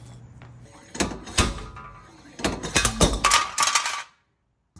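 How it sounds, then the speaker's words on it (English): Sharp metallic clanks and knocks from a slide hammer pulling an axle on an Infiniti G35 sedan, a few separate impacts then a rapid cluster of blows, close and loud, ending abruptly. "let's see if I can slide hammer this out"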